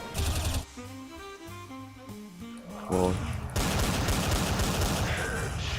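Bursts of rapid gunfire from Counter-Strike gameplay, loud and dense with clipped shots over game music and effects, while a voice talks over part of the action.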